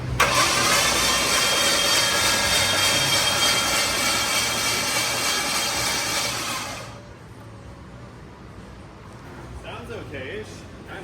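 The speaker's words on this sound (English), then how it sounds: "turn this thing over, and see what it sounds like" A Ford Ranger pickup engine cranks and runs loudly for several seconds, then shuts off, followed by quiet talking.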